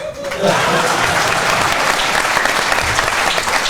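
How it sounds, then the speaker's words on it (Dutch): Studio audience applause on a Dutch-language podcast, a dense, loud burst of clapping that swells in after a brief moment and carries on evenly throughout. "bedankt voor het applaus"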